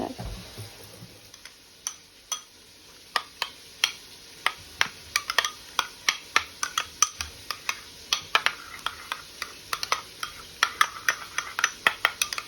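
A spoon stirs a sauce for a Côte d'Ivoire garba dish, scraping and tapping the bowl in a steady run of sharp clicks, close and fairly loud, with no talk.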